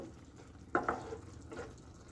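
Tangra fish simmering in mustard curry in a pan, a soft steady bubbling sizzle broken by two quick close utensil scrapes as the fish are turned, then a fainter stir.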